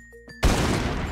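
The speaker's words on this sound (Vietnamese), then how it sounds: "khẩu súng này của anh bắn ra hòn đá đấy, đúng như kiểu cướp biển luôn" A Minecraft pirate-style gun fires a stone, a sudden booming shot after two soft clicks, followed by a long rumbling tail.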